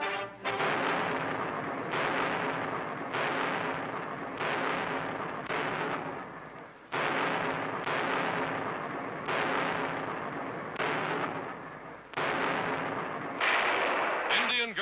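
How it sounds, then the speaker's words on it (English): British artillery at the front in 1943 booms in a rapid series of heavy, close blasts, roughly one every second or two, with echoing decay between shots on an old newsreel soundtrack. "British artillery gives the Nazis no rest"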